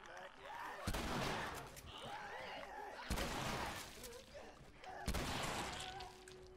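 Gunfire from The Last of Us video game, several sharp bursts a couple of seconds apart, each with a broad crack, heard amid steady game background sound and some voices.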